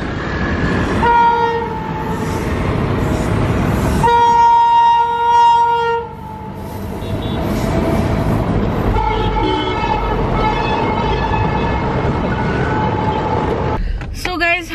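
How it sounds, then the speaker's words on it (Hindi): Train passing on a railway track, loud and close, with long blaring horn blasts and a continuous rolling rumble of wheels and wagons; a person talks over it at times. "यहाँ पर ट्रेन जा चुकी है और एक ट्रेन इधर से आ रही है अभी।"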